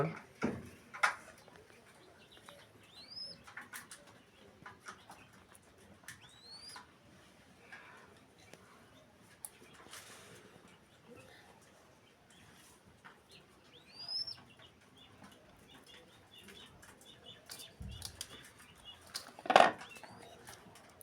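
A mother dove and her chick in a quiet setting give faint, sparse cooing and chirping calls scattered over a long stretch, with occasional soft bumps and rustles nearby.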